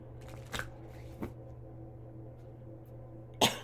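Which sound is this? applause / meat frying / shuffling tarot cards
shuffling tarot cards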